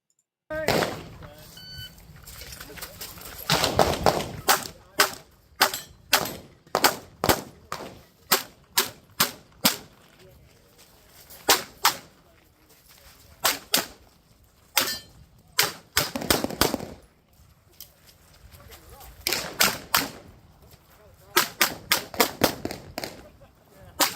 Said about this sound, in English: He's shooting at an array here, 2 stacked targets with a no shoot in the middle.